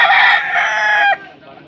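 A one-year-old rooster crows once, loud and close, its long strained call ending sharply, followed by a quiet tail.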